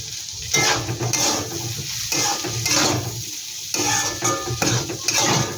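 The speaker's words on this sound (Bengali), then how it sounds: "এটা আমি ভালো করে একটু ভেজে নিচ্ছি।" Egg Maggi ingredients fry in a pan, heard as a close, repeated rhythm of stirring scrapes and clatter over a steady sizzle, with no talk.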